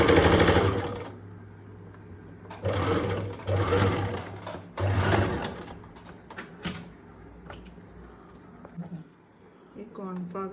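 A sewing machine stitches a georgette shirt in short bursts of whirring, with pauses between runs and quieter handling noises toward the end.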